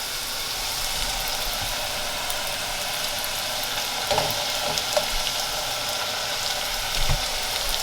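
Homemade tortilla chips fry in hot oil with a dense, continuous crackling sizzle, close and steady, with a few louder pops and bubbling bursts near the end.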